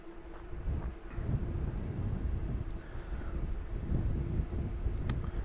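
Wind gusts across a night astrophotography site at Father Crowley Overlook as a continuous low rumbling buffet against the microphone, fairly loud and steady, with faint intermittent clicks.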